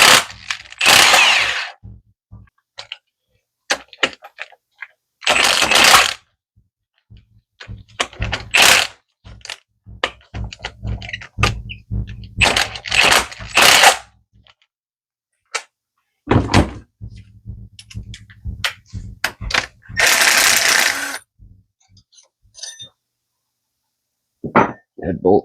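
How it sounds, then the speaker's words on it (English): Ratcheting wrench clicks and metallic clanks come in irregular bursts as head bolts are loosened on a Yamaha Warrior 350 ATV engine during teardown, close up with quiet pauses between. "Now we're going to get our head bolts loose."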